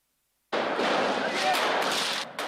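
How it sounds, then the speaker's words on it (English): Hundreds of fireworks bursting inside Al-Aqsa Mosque in Jerusalem as police forces enter: a sudden, loud, dense wall of crackling noise begins after a brief silence and continues without let-up, with sharper bursts near the end. "show hundreds of fireworks exploding as forces enter Jerusalem's Al-Aqsa Mosque"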